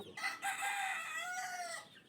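A brooding hen sitting on hatching eggs in a multipurpose pen clucks faintly with a short run of soft, throaty calls close by, and no one speaks.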